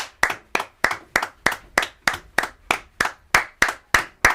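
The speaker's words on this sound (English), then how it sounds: "That's us clapping for the yo fam." A small group claps together in a tight, even rhythm, about three claps per second, sharp and close, each clap ringing briefly in a room, with no voices.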